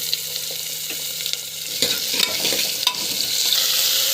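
Beans are sautéed in a pan with onion, salt and chilli powder, making a loud, steady sizzle with a few scrapes and taps of the stirring spoon and no talking.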